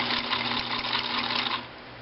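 A Pfaff 1222E sewing machine stitches a zigzag in a fast, even mechanical whir with rapid needle clatter, close by, then stops abruptly near the end, leaving faint hum.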